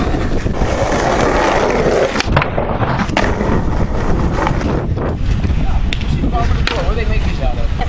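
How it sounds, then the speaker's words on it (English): Skateboard wheels roll loudly and continuously over pavement, rough and grinding, with sharp knocks and clacks from the board and wind buffeting the microphone throughout. "No, we're skating."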